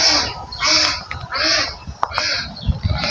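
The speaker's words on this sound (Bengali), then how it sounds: "হাঁস ধরতেছে হাঁসের হতেছে সমস্যা হয়েছে" Repeated loud honking calls from ducks being caught, several bursts in a row close by, with faint scuffling and movement noises between them.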